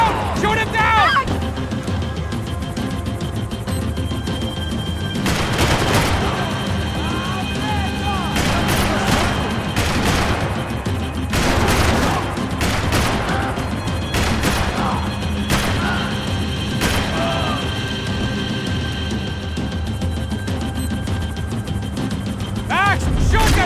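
Gunfire crackles through a Max Payne 3 firefight, with sharp bursts and repeated shots scattered over a constant low rumble of action, while characters shout over the shooting.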